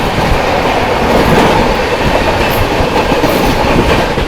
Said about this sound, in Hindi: किसी भी वक्त अपनी क्रॉसिंग सीमांचल एक्सप्रेस के साथ ले रही जोगबनी आनंद विहार सीमांचल एक्सप्रेस